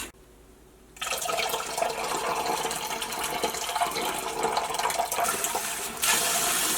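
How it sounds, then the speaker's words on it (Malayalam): Tap water pours steadily over paneer in a kitchen strainer, a continuous broad rushing splash that starts abruptly after a second of quiet and runs close and loud to the end. "ഇനി ഇത് ടാപ്പ് വാട്ടറിൽ നന്നായിട്ടൊന്ന് കഴുകിയെടുക്കണം."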